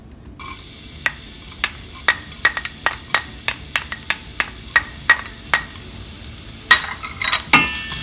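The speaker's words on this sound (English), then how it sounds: "Once the oil is heated, we will add in the chopped garlic," Chopped garlic sizzles in hot oil in a pan for fried rice, with a steady frying hiss under a string of sharp, regular clicks and scrapes from a spoon stirring the pan, close and clear.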